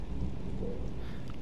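Steady rain in the farming video game Pure Farming 2018, a continuous dense hiss of falling rain with a low rumbling bed, moderately quiet and unbroken throughout.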